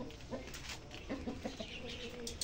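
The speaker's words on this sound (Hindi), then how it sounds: "मुर्गी वाइट वाली जो है ना शेरू के केज में आई हुई है" A white hen clucking in short soft bursts, close by, amid other faint bird calls around a backyard cage.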